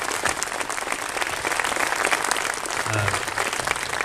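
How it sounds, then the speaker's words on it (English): A crowd at the opening of a soccer center applauds building staff, dense continuous clapping, loud and even, with some murmuring voices mixed in. "Let's give them a round of applause."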